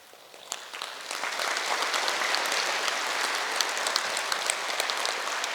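An audience at a district International Yoga Day gathering in Davangere breaks into clapping that swells within the first second, then settles into sustained, crackling applause.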